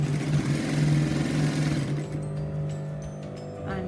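A sewing machine runs a rapid, even stitching burst along the crotch seam of Afghani trousers for about two seconds, then stops, leaving a quieter hum and faint handling noises.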